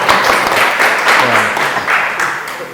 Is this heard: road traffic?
no